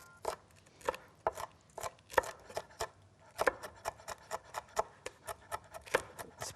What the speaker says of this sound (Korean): 그래서 이제 아주 송송 잘라주세요